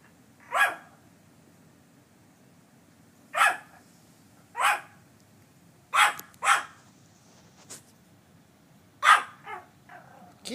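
A small dog barking at its own reflection in a glass pane indoors: sharp, isolated yips and barks come every second or two over about ten seconds, close and fairly loud against a quiet room.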